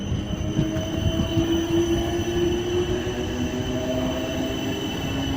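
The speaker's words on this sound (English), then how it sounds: "here's older red train. We got 455." An older red Class 455 electric train passes at Clapham Junction, its steady rumble and rolling wheel noise close and loud throughout, with faint tonal whines and squeals riding above.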